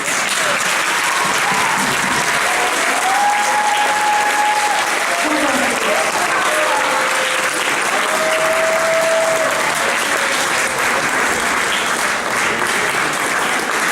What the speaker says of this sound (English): would like to bring up all the acts one more time for a great big round of applause